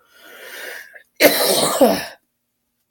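A single harsh cough from a man with a bad cold and sore throat, close to the microphone, preceded by a breathy throat-clearing rasp, then silence.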